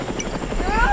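Helicopter in the Roblox game Mad City, a fast, steady rotor chop with a low whine, loud and close for under a second, with voices over it.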